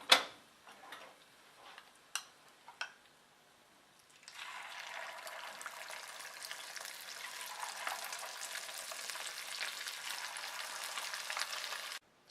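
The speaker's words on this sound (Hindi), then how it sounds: "अब मैं बाकी के चिकन पीसेस तल लेती हूँ।" Chicken pieces deep-frying in hot oil for chilli chicken: a few sharp clicks and taps of handling at first, then a steady, close, hissing sizzle that fills the rest until it cuts off.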